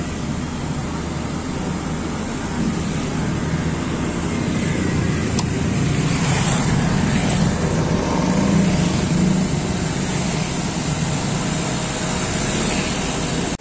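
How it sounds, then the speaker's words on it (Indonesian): A 2006 Toyota Innova engine idling up at a steady 2000 RPM, a continuous even drone that holds level throughout with no talk over it. "RPM juga ditahan di 2000."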